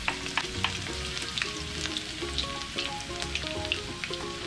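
Garlic sizzles in hot oil in a pan in a home kitchen, a steady crackling fry broken by soft stirring clatter, fairly quiet and close with no talk.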